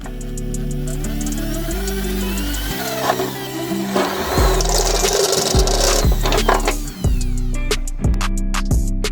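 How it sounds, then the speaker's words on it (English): A drill bores into the rust-treated steel oil pan of a Nissan Micra turbo project, a loud, continuous whining and grinding with pitch changes as the bit bites, no talk. "Once the rust converter dried, I started to drill it."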